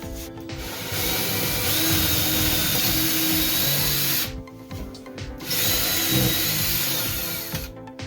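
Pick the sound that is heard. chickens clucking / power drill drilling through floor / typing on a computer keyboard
power drill drilling through floor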